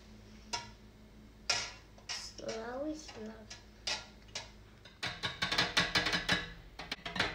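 Dye being mixed in a cup of water for rainbow roses, with a quick run of close, bright clinks and taps of a utensil against the cup that picks up pace toward the end, while people talk and laugh nearby.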